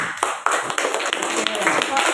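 A group of children claps in quick, irregular bursts close by, a busy patter of hand slaps with voices mixed in.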